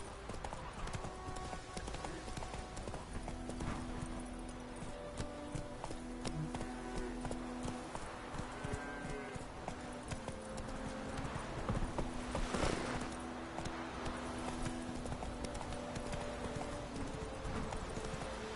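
Roach, the horse in The Witcher 3: Wild Hunt, gallops with steady, rapid hoofbeats that stay close and loud throughout, over a constant bed of game ambience, with faint voices now and then.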